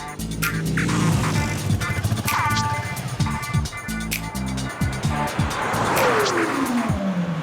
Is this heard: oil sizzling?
no